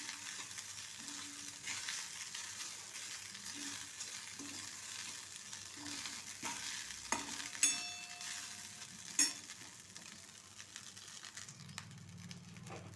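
Idli pieces are stirred in a hot frying pan, giving a steady soft sizzle with scraping, tossing spoon strokes and a few sharper clinks of utensil against the pan, close and fairly quiet.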